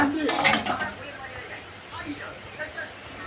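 Pasta being stirred and fried in a little oil in a pan, with a brief clatter of utensil against pan at the start, then a quieter sizzle under faint speech.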